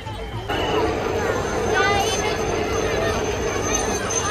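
A dense crowd gathered for Ganpati idol immersion at Girgaon Chowpatty beach in Mumbai, heard as a continuous wash of many voices and outdoor babble, close and steady throughout.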